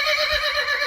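A ten-month-old colt, a young stallion, gives a brief, shrill whinny with a wavering, quavering pitch, close and loud, lasting under a second with no talk.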